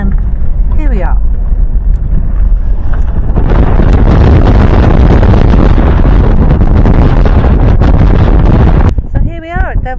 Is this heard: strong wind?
yes